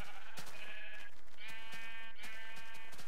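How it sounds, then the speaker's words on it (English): Sheep in the video game Minecraft bleat repeatedly, three or four wavering baa calls close by over a quiet background, with no speech. "And look at all these sheep."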